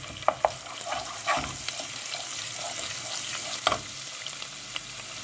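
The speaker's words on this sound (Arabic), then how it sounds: "ونحط عليها كمان معلقة توم، ونقلبها، نقلب التوم" Garlic and onion fry in a pan for a chicken liver dish with hot pepper while a spoon stirs them, giving a steady close sizzle broken by a few sharp scraping clicks.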